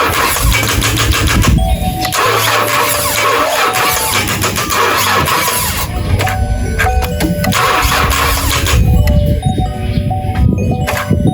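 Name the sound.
truck engine starting on revived AC Delco battery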